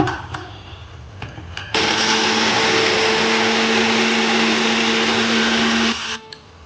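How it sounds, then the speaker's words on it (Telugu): A kitchen mixer grinder coarsely grinding a cooled fried mixture: a loud, close, steady motor whine with a few clinks before it starts, running for about four seconds before cutting off. "మిక్సీలో కొంచెం బరకగా మిక్సీ పట్టాలి."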